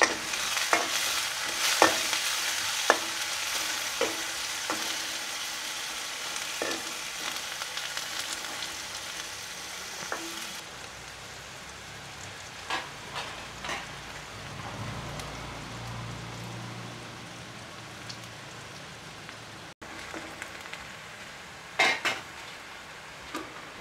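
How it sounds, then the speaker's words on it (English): Onions, chilies, curry leaves and pandan leaves frying in oil for a traditional Sri Lankan rooster curry, with a soft, steady sizzle, scattered clinks of a utensil stirring in the pan, and a quieter stretch midway. "put some onions, chilies, curry leaves and pandan leaves and fry them well."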